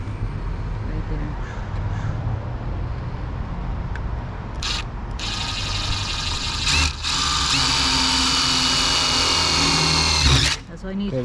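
A power drill whirs steadily for several seconds while drilling a hole for a bathroom vanity and sink top, starting and stopping with short bursts, under a noisy background with some talk.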